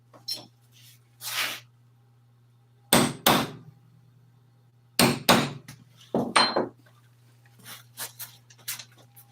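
A hammer punches holes in a metal part from an old Toyota seat being recovered, with sharp close strikes that come singly and in quick pairs, separated by quiet gaps over a low steady hum.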